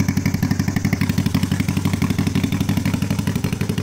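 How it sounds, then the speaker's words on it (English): Honda CB450 motorcycle engine idling through shorty mufflers, a loud, close, throaty and evenly pulsing exhaust note that holds steady throughout. "You can hear those shorty mufflers at work. A nice little throaty sound."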